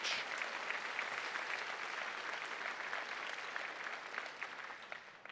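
Audience applause at a college campus convocation ceremony, a broad sustained wash of many hands clapping in a large hall, fairly distant and steady, tapering slightly toward the end.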